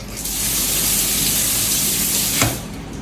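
Water pours and splashes steadily across a table surface while fish is being cleaned, a close, continuous gushing rinse that cuts off sharply near the end.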